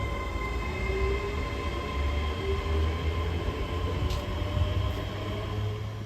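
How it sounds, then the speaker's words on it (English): Train 32418 passes through Motherwell station with a steady, loud rumble and hum of wheels on rail that holds evenly throughout, with brief higher screeches near the end. "there goes 32418, heading off to Dalmuir via Singer"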